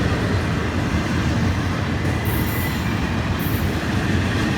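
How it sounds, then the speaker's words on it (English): An FEC freight train, train 101 bound for Miami, rumbles past close by in a loud continuous roar of wagons, with two brief high wheel squeals cutting through. "this is the daily hotshot train from Bowden Yard in Jacksonville to see Port Seawall in Miami. This is train 101."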